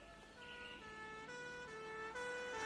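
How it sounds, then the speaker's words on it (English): A wailing fire engine siren rises and falls in steady sweeps, fairly faint and distant, with no voices. "Soon they hear the siren."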